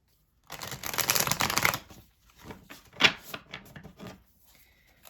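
Tarot cards are shuffled close by, first in a dense riffling run lasting over a second, then in scattered softer riffles and taps that thin out toward the end.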